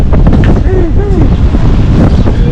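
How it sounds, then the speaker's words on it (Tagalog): Strong wind roars and buffets close up outdoors in Canada in a loud, rumbling rush, with brief voices faintly mixed in. "Lakas ng hangin."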